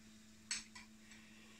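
A spoon stirring a virgin mojito in a glass gives a sharp clink followed by two softer clinks, close but quiet, over a steady low hum, with no talking.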